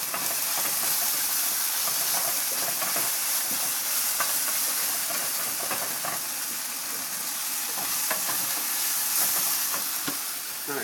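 Onions sizzle and fry steadily in a pan for a Hyderabadi mango chicken dish, a dense continuous hiss with small crackles and occasional stirring clicks, close and fairly loud with no talking.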